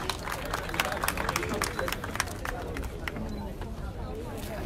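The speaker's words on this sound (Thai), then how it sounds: "ขอเสียงปรบมือให้รองผู้ว่าการด้านสื่อสารการตลาดการท่องเที่ยวแห่งประเทศไทยครับ" A crowd applauds the Tourism Authority of Thailand's deputy governor for marketing communications at an event promoting Thailand ahead of the Thai MotoGP, with steady dense clapping and crowd chatter mixed in throughout.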